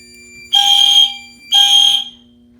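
A Simplex fire alarm system sounding during a two-stage system test, giving two loud, steady electronic horn blasts of about half a second each, separated by a short gap, with a faint steady hum underneath.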